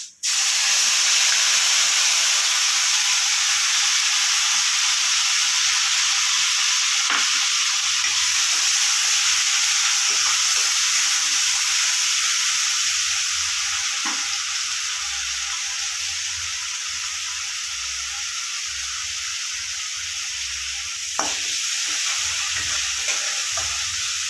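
Onion paste frying in a pan for a Bengali doi katla fish curry: a steady, loud broadband sizzle and hiss throughout, with occasional stirring scrapes and no talk.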